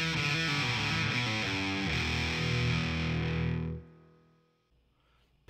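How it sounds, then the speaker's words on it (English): An electric guitar played through a Marshall DSL100H amp with its built-in reverb: a distorted, ringing chord phrase that sustains loudly, cuts off, and leaves a faint reverb tail fading into near silence before a sudden final burst. "The reverb is passable. Let's give that a test right now."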